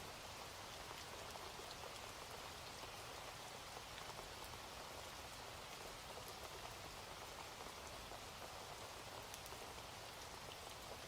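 Steady, dense rain falls evenly and continuously throughout, a close, uniform hiss of drops on surfaces with no voices or other sounds.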